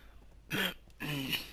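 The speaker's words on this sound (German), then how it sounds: "das ist echt ein Räusper-Part" A person clears their throat twice, two short rough rasping bursts close to the microphone, with near silence before and between them.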